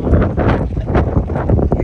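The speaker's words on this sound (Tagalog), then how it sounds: "Malakas ang hangin." Strong wind buffets the microphone at a campsite, a steady low roar with rough gusting surges through the whole stretch and no voices on top.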